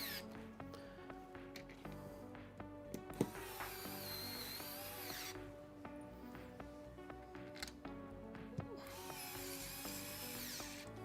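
Several screws are driven in while a gaming PC is assembled in an NZXT H9 Flow case, giving repeated close, soft mechanical whirring and ratcheting. A louder click cuts in partway through, over a steady low background hum.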